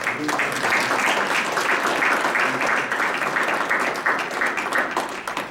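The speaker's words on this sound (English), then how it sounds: "Let's give another round of applause" A crowd at a university academic commemoration ceremony applauds loudly and steadily, dense clapping filling the room without a break for several seconds.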